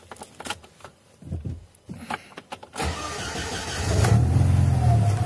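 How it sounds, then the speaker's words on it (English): An Alfa Romeo engine (Alfa 33, 75 or 155 era) cranks and fires up, with a few quiet clicks and thuds before it, then a sudden start that settles into a loud, steady idle with a low rumbling hum. "I will switch on the car now."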